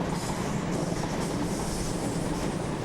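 A train rumbles steadily overhead on the railway above a boxing gym, a loud continuous rolling roar with a faint clickety-clack of wheels throughout, no voices.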